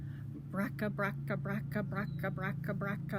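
A voice rhythmically repeats a harsh syllable about a dozen times, imitating a sputtering, noisy old car engine.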